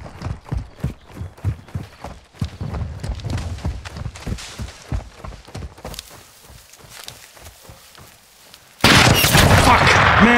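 Sniper gunfire in the video game The Dark Phantoms, a string of sharp percussive cracks over busy combat noise and footsteps, ending in a loud sustained burst of noise.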